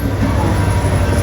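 A BNSF coal train's rear DPU locomotive rolls past close by, a loud, steady rumble of engine and wheels with no talk over it.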